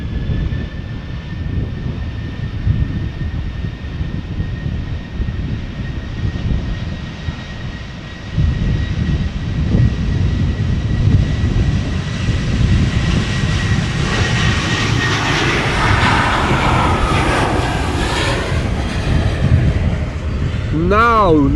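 KLM Boeing 737-700 jet departing Amsterdam Schiphol, a continuous engine rumble with a steady whine that builds into a louder, sweeping roar toward the end.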